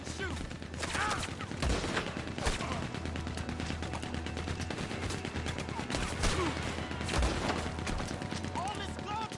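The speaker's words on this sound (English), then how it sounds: "All this gunfire!" Gunfire from a Gatling gun and rifles in the Red Dead Redemption 2 video game rattles almost nonstop in dense, rapid bursts, with voices shouting over the chaotic battle.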